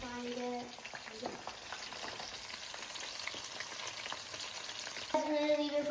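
Shrimp rolls fry in a pan with a steady close crackle and sizzle, plus a few faint scraping touches and brief tonal hums at the start and end.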